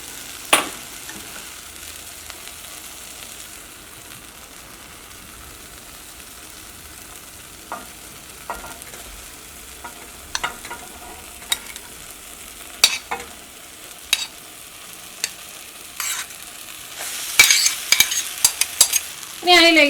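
Cooked noodles and egg stirred into a frying tomato masala for egg Maggi, with a low steady sizzle and a spatula scraping and clinking against the pan in scattered sharp strokes that grow busier toward the end.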